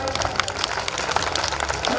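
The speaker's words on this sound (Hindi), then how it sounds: "तालियां ऐसे बजाओ कि कुछ आवाज़ भी हो" Brief burst of audience clapping at a Hindi poetry gathering, a kavi sammelan, with sharp hand claps scattered over a murmuring crowd for about two seconds.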